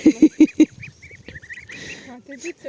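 Goslings out grazing on pasture give four loud, quick honks close by, followed by softer scattered peeping and chatter.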